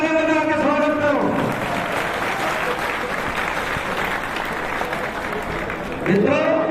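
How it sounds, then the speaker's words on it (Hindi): A crowd at a BJP party workers' rally applauds, dense sustained clapping that runs loud and steady through the middle, with a speaker's voice over the start and returning at the end. "जरा दिल से ताली बजा के स्वागत करो"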